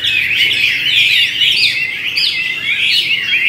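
Chinese hwamei songbirds, hand-raised from chicks and kept in captivity, sing loudly and up close in bright, rapidly varied warbling phrases that run on almost without a break.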